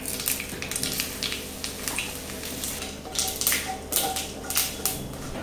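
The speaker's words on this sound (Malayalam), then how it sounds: "അപ്പോൾ വെളിച്ചെണ്ണ ഏകദേശം ചൂടായിട്ടുണ്ട്, ഇതിലോട്ട് കടുകിടുക. കടുക് പൊട്ടിക്കഴിയുമ്പോൾ അതിലേക്ക് വേപ്പില ഇടും." Mustard seeds popping in hot coconut oil, a crackly sizzle with scattered sharp pops clustering more densely toward the end, close and moderately loud.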